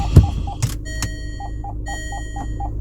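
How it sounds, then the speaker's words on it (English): A 2014 Range Rover Evoque's electronic chime beeps in a steady repeating pattern of short tones, with a couple of thumps and clicks in the background. "This thing just makes beeping noises all the time"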